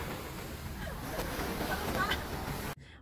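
Waves wash steadily along the beach at East Coast in Singapore, a soft continuous surf hiss mixed with wind noise, faint and distant, stopping abruptly at the end.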